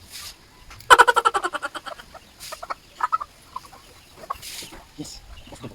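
A chicken on a rural farm clucks in a quick, loud burst of about eight rapid notes, followed by scattered softer clucks and brief snatches of nearby voices.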